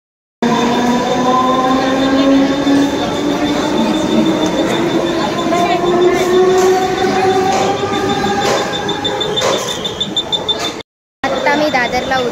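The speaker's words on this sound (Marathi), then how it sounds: "इथून मी आता वेस्टर्न लाईनला जाणार आणि मलाडची ट्रेन पकडणार।" A Mumbai suburban local train on the Western line rumbles loudly past with long rising squeals from the wheels and rattling carriages, continuous and close, ending in a short gap.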